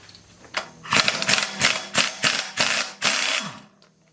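A ratchet breaks loose the red-Loctited flywheel bolts on a 1979 Chevy Camaro Z28 engine, giving about six close, loud bursts of rapid mechanical clicking with short pauses between them.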